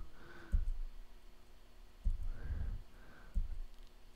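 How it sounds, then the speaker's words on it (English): Number keys pressed on a computer keyboard while importing and rating photos in Adobe Lightroom, three distinct soft clicks spaced about a second and a half apart over quiet room tone. "I'm going to click the number 5 on my keyboard."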